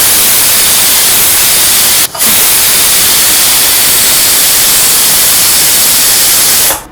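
A closed pressure cooker cooking chammanthi rice vents steam in a loud, steady rushing hiss. The hiss breaks off briefly near the two-second mark, then continues until it cuts off at the end.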